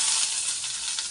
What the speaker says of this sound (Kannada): ನೋಡಿ, ಈಗ ನಾನು ಈರುಳ್ಳಿ ಹಾಕೊಂಡಿದ್ದೀನಿ.